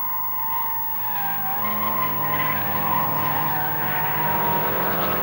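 Class B saloon race cars with engines up to 1800cc practising at the Mallory Park circuit, engines droning loudly with tyres squealing and skidding through a corner over several seconds.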